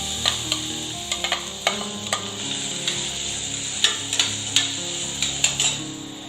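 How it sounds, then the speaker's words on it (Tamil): A large onion, finely chopped, sizzles in hot oil in a pan for a roadside-style mushroom masala. A steady fry is broken by repeated sharp clicks and scrapes of stirring. "எண்ணெய் ஓரளவுக்கு சூடானதும் ஒரு பெரிய வெங்காயத்தை இந்த மாதிரி பொடியா கட் பண்ணிட்டு சேர்த்துக்கலாம்"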